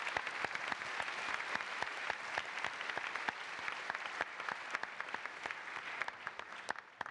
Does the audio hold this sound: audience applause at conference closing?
yes